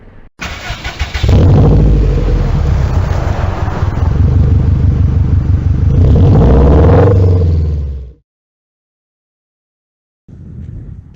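A 2020 Honda Africa Twin Adventure Sports motorcycle engine starts close by and runs loud and steady with a deep rumble for about eight seconds. It then cuts out to silence before a faint rumble returns at the end.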